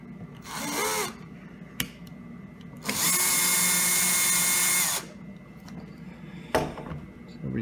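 A power screwdriver backs the screws out of a legacy computer's back panel in whirring bursts, one short, one longer of about two seconds, and a brief final spin, with small clicks and taps of handling between them.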